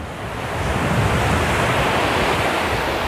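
Sea waves at Arambol Beach in Goa roll in as a loud, continuous rushing surf that swells slightly after the start and holds steady.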